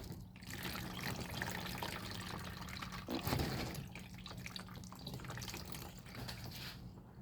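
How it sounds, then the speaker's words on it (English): Water poured from a lifted container onto plants in a small outdoor container garden makes a faint, steady trickling and splashing that runs continuously against a low background hum. "And now I'm gonna use this water to water it."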